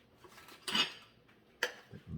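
A cook stirs chopped potatoes and onions together in a pot, giving a few quiet, separate clinks and scrapes of utensil against metal, with soft shuffling between them.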